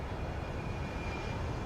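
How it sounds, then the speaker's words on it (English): A steady, droning airplane engine spooling up in X-Plane 11 rumbles without a break, a low broad roar with a faint high whine riding on top. "You can start to hear his engine spooling up down there."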